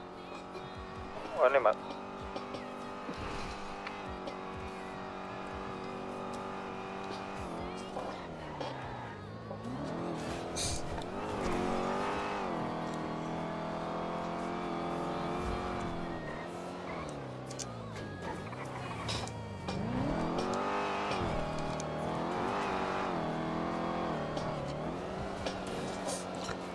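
Vehicles in a roleplay video game rev and accelerate in repeated rising and falling engine sweeps, loud and continuous under someone talking throughout.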